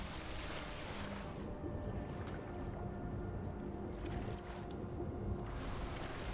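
Rushing water from a waterfall in the video game Skyrim gives a loud, continuous broadband roar that briefly thins and swells, with no talk over it.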